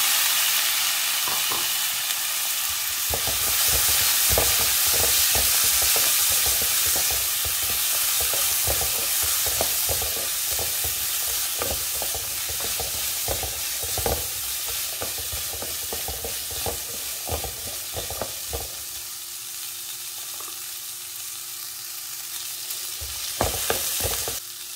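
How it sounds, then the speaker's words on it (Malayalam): Chopped green beans stir-frying in coconut oil with turmeric, a steady close sizzle and hiss broken by repeated scraping and stirring knocks of a spoon in the pan, with no talk. "പയറിട്ട് കഴിഞ്ഞാൽ ഒന്നോ രണ്ടോ മിനിറ്റ് നമുക്കിതൊന്ന് ഇളക്കി കൊടുക്കണം"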